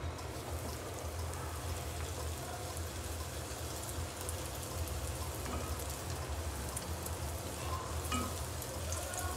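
Luchi, puffed flatbread, frying in hot oil, giving a steady, dense sizzle and bubbling that stays even and fairly loud throughout, with no talking.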